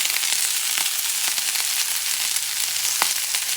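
Minced ginger sautés in a hot pan with a loud, continuous sizzle and crackle, occasional sharper pops and stirring scrapes standing out near and alone.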